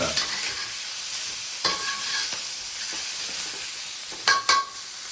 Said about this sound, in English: When you start cooking these peppers and the onions, it gets magical.